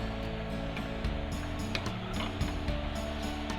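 A sewing machine quilts layered cloth for a bag, its close mechanism whirring and clicking in a fast, even rhythm with no pauses.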